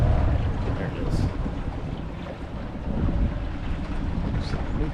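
Wind buffeting the microphone on a lake in Winter Park, Florida while a boat with a repaired engine docks, a steady loud rumbling roar with faint engine and water noise underneath.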